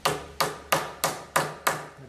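A small hammer strikes a wooden table joint six times in an even rhythm, each close, sharp knock decaying quickly before the next.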